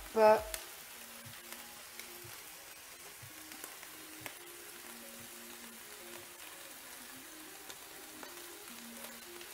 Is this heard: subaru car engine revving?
no